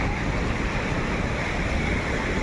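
Sea waves wash onto Patong Beach in Phuket as a constant, full rushing surf, with no pauses and no voices.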